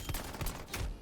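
Automatic sentry turret gunfire in Far Cry 2, a rapid loud burst of repeated shots rolling through the full second without pause.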